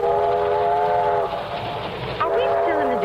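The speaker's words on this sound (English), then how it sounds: "To ride swaying and bouncing behind that iron monster with its hiss of steam" Steam locomotive rolling along railroad track in a radio drama scene, with a steady rumbling run and a drawn-out whistle tone that breaks off and returns, loud and continuous throughout.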